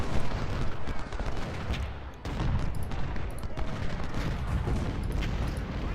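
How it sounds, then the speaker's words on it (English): Cannon and artillery fire from a Civil War battle in the strategy game Ultimate General: Civil War, including 10-pounder guns, a dense, continuous rumble of overlapping booms and volleys with no talking. "Meredith's got 10-pounders, so I want him firing at that cannon group as well."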